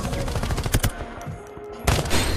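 Brief video game firefight with rapid automatic gunshots in dense bursts, a short lull, then another loud volley.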